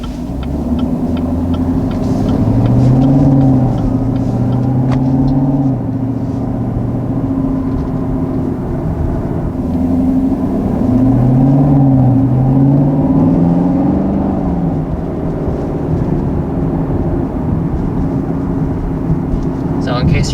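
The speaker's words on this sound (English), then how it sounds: "It's really irresistible to just goose that throttle, listen to that exhaust note" A 2019 Chevrolet Camaro SS V8 exhaust note rumbles in a cabin, swelling twice as the throttle is pressed and easing back between, a steady low drone with someone talking over it.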